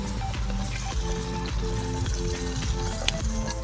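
Spices sizzling and frying in a pan with red chilli powder, Kashmiri red chilli powder and turmeric for Bengali chicken kosha, a steady close crackling hiss with faint clinks, no talking.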